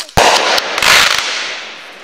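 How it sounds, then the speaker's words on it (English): Fireworks at Lake Williams in Packwaukee, Wisconsin, go off in a sharp close bang followed by a crackling, fizzing burst and a second explosion, their noise trailing off into a long fading hiss. "Fireworks."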